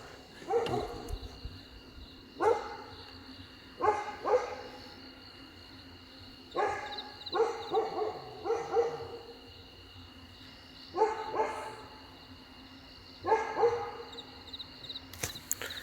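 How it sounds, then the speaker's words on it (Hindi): Village dogs barking at night at a leopard nearby, in bursts of several barks at a time, spaced a couple of seconds apart, at moderate distance over a steady background hum. "अब इस तरफ को देख के भौंक रहे हैं, पीछे की तरफ"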